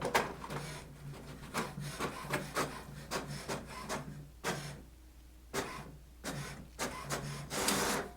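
An HP Smart Tank 5000 printer printing a page, with rhythmic mechanical clicking, rubbing and feeding bursts repeating at short intervals, close and moderately quiet.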